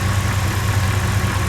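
A 1999 Dodge Durango engine idles while still cold, a steady, loud low rumble with an even, continuous drone close by.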